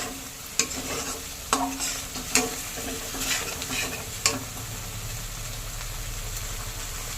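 Spices sautéing in a pan for a vegetarian chhana kofta curry, a steady close sizzle with a few sharp stirring clicks and scrapes scattered through.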